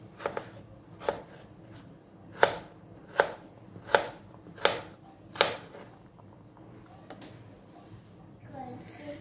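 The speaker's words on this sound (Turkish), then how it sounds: "Öncelikle patateslerimizi doğruyoruz küp küp şeklinde" A knife chops potatoes into cubes on a cutting board in a steady series of about eight crisp strikes, close up, with faint background noise.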